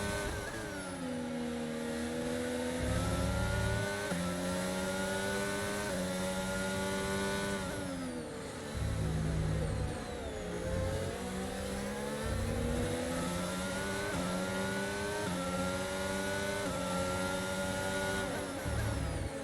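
A large pack of about eight Formula 1 race cars in the F1 22 video game at Imola roars past together, layered engine whines rising and falling in pitch as the cars accelerate and shift gears, loud and continuous.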